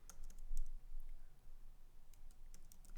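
Computer keyboard typing in a programming setting, a run of quick soft key clicks at close range, irregular in rhythm, with no one speaking.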